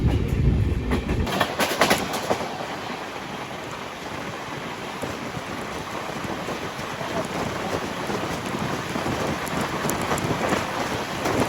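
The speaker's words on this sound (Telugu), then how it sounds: "ఇది కృష్ణరాజపురం నుంచి మారికుప్పం వెళ్ళే మెమో ట్రైన్ ఇది" A MEMU passenger train from Krishnarajapuram to Marikuppam runs steadily with a continuous roar and rhythmic rattling of wheels on the rails, heard from on board or very close.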